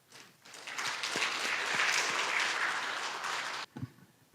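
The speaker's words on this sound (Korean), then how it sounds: "우리 박수로 초대하도록 하겠습니다" Church congregation applauding to welcome a guest during a Thanksgiving service, clapping swelling quickly into a full, even roar and stopping abruptly after about three seconds, followed by a few thumps.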